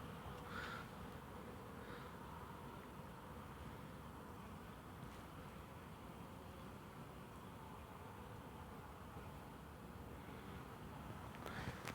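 Honeybees buzz around the entrance of a small nucleus hive outdoors, a steady low hum with a few closer passes of individual bees, continuous and moderately faint throughout.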